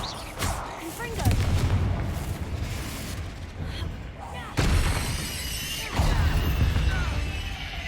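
Fire spell blasts in Hogwarts Legacy, a series of loud booming crashes with sharp attacks, three or four big hits separated by crackling debris and rumble. A voice is faintly present under the impacts.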